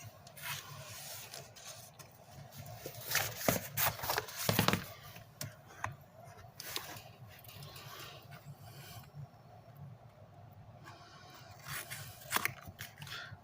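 Scissors snip through cardstock beside chipboard while a mini album is assembled, giving a few close, quiet cuts and rasps in a short cluster with softer handling sounds around them.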